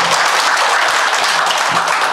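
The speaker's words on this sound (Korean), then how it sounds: "박수 한번 부탁드립니다" Loud, dense applause from a crowd at a biodiversity survey gathering in Busan, South Korea, steady and continuous throughout with no voices over it.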